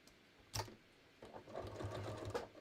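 A sewing machine runs in two short, quiet bursts while stitching up the short end of a pair of shorts at a waistband, its motor whirring closely.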